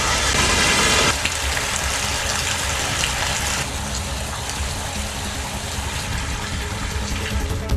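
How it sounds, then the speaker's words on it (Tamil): Heavy rain pours during a thunderstorm in Sivaganga, sending water rushing through the town's main streets as a dense, steady roar that stays loud throughout. "சிவகங்கையில் இடி மின்னலுடன் பலத்த மழை பெய்ததால் நகரின் முக்கிய வீதிகளில் நீர் பெருக்கெடுத்து ஓடியது."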